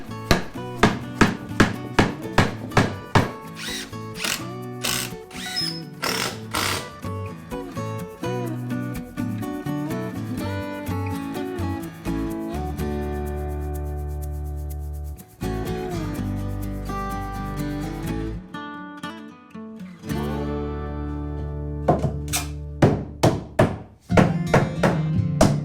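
A carpenter lays floorboards over a raised tatami-room platform, with a run of sharp wooden knocks and impacts at the start, a long stretch of steady driving noise in the middle, and more irregular thumps toward the end.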